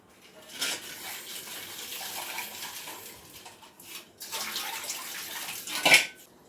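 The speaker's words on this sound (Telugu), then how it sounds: "కొంచెం చల్ల వాటర్ పోస్తా ఎందుకంటే వేడి వేడి ఉంటాయి కదా ఎగ్స్" Cold water is poured over hot boiled eggs in a kitchen: a steady splashing stream rises and falls in bursts, with a bright clink of a dish or egg near the end.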